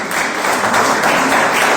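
A church congregation bursts into steady, dense applause for the Lord, a continuous wash of many hands clapping together at close range, with no speech over it.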